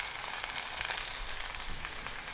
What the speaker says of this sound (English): Brown it in hot fat in a casserole dish.